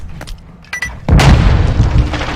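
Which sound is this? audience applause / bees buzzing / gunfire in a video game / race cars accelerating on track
gunfire in a video game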